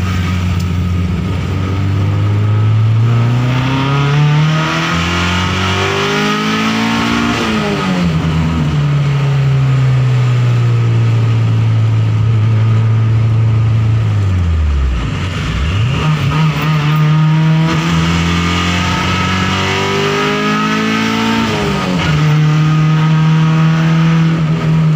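A car engine holds a steady cruise run, a loud continuous drone whose pitch rises and falls smoothly with throttle changes, briefly dipping near the middle before settling again, with no talk.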